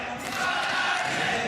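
A big esports arena crowd roars and cheers at a League of Legends LEC Spring group-stage match, a dense, sustained wash of voices under a caster's talk.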